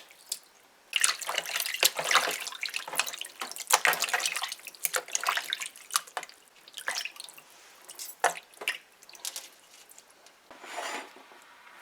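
Water runs and splashes under a kitchen tap while something is washed with vinegar, with irregular sloshing, dripping and rubbing sounds that swell and fade close to the microphone.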